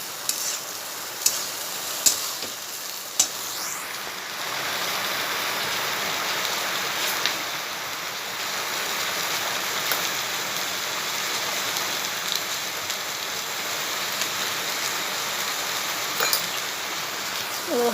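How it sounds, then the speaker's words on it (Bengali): Cold cooked rice fries in a pan for a rice bhujia, a steady, even sizzling hiss that runs the whole time, with a few sharp clicks and knocks near the start. "এরপরে ভাতটাকে দিয়ে ভেজে নেব"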